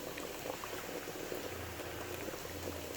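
Water with lemon juice bubbles at a rolling boil in a pot for chicken biryani, a continuous dense gurgling and popping close by, fairly quiet and steady.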